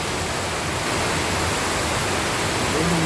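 Strong rushing water roars continuously and loudly like the sea, a dense unbroken wash of sound close by during heavy rain.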